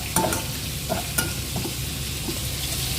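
Garlic frying in a pan gives a steady close sizzle, with a couple of brief utensil taps near the start and no voices.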